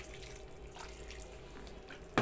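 Hot water from a kettle trickles softly into a pot of sauce for a kebab stew, a faint, continuous pour heard up close. A sudden sharp knock sounds at the very end.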